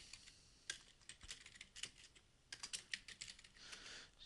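Typing on a computer keyboard: quick, irregular clusters of close, crisp keystrokes with short pauses between bursts, no voices.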